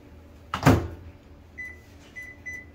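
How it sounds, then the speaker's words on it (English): A microwave oven door pops open with one sharp close latch clunk, followed by a few short, quiet electronic beeps from the oven. "Open your microwave."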